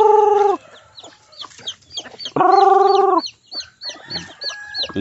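Native chickens cluck loudly close by in a small yard, with a long sustained call at the start and another midway, between bursts of shorter clucks and chirps from the flock.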